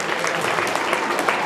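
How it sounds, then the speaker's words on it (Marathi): Audience at a Home Minister style Paithani game show event claps loudly and steadily, dense applause lasting throughout with a few voices mixed in. "जोरदार टाळ्या वाजवा वहिनीसाठी."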